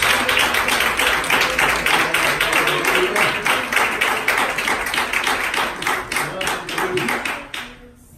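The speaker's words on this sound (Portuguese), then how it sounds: "bater as palmas para Jesus" A church congregation claps along in steady rhythmic unison, loud and close, many hands striking together in an even beat that fades out at the end.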